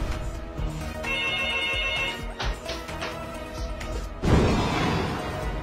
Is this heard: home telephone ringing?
yes